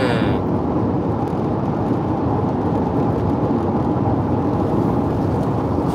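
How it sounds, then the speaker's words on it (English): Low rumbling thunder from a storm approaching over the West Texas highway between Pecos and Van Horn, a continuous broad roll that stays steady and fairly loud for the whole stretch with no voices. "I think we're getting some rain and lightning tonight."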